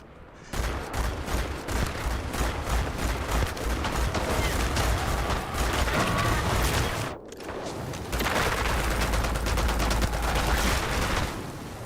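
Sustained rapid gunfire from the player's weapon in Starfield, a dense, loud stream of shots with a brief pause midway before the firing resumes just as heavily.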